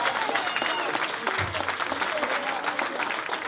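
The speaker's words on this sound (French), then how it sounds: "je pense que vous pouvez m'applaudir quand même" An audience at a French hypnosis show breaks into steady applause, a continuous patter of clapping hands from a room full of people, with some voices mixed in.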